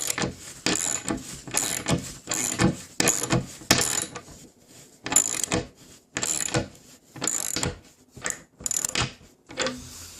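Repeated bursts of ratcheting, grinding mechanical clicks in short spurts with brief pauses, close and fairly loud, like a hand tap turning into wood.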